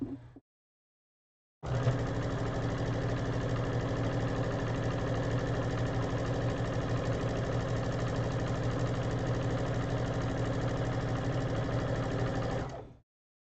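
Sewing machine stitching a seam, giving a continuous, even mechanical whir with a fast steady rhythm for about eleven seconds before stopping, preceded by a brief short burst.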